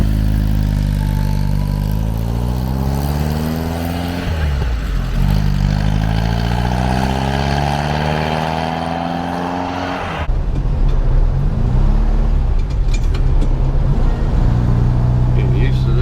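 A 1973 VW Super Beetle with a freshly rebuilt engine pulls away, its air-cooled motor revving and shifting through gears with rising and falling harmonics, then rumbling more roughly with clatter while people talk inside the car.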